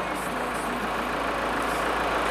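A used SsangYong Korando idles at a steady 800 rpm during an inspection, producing an even, low engine hum with no change in level and no speech.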